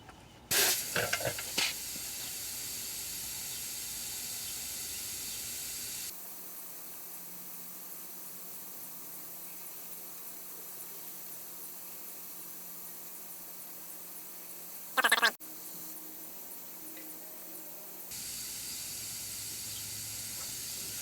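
Air hissing out of a car tire through a set tire deflator, a steady loud broadband hiss that drops in level partway through and then rises again, with a brief clank near the end.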